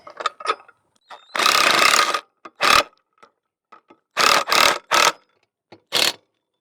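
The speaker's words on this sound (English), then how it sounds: "Because you can just slide out, close it, and it's latched." A metal gate latch on a farm gate slid and clicked shut, giving a few sharp close clacks and rattles spread over several seconds, with short scraping bursts between them and no talking.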